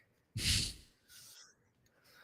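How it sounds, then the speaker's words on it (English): Heavy breathing from someone who has just climbed upstairs, a loud close breath followed by a couple of softer exhales, with no talking. "disregard my heavy breathing"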